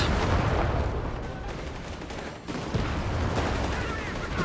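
In Company of Heroes 3, Greyhound armored cars engage Panzer Grenadiers with dense, rattling game gunfire and explosive bursts, dipping briefly in the middle before it picks up again, with commentary voices talking over it.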